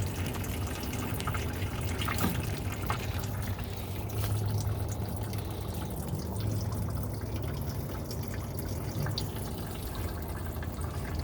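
Rainwater runs steadily down through holes into a rain storage bin, making a continuous rushing trickle that stays close and even throughout.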